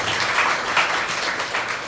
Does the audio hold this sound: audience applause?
yes